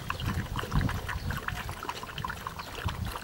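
Water trickles and splashes gently while several dogs drink together from the same source after a mountain hike, making a close, continuous wet lapping patter.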